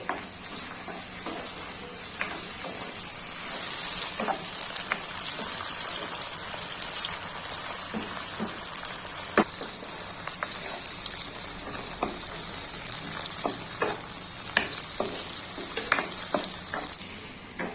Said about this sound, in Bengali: এখন আমি পেঁয়াজের মধ্যে দিয়ে দিচ্ছি টমেটো কুচি। টমেটোটাকেও ভেজে নিতে হবে।